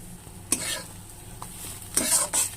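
Leaf paste with turmeric stirred in a pan over a low flame, a soft sizzle under several close spoon scrapes and stirring swishes in quick bursts.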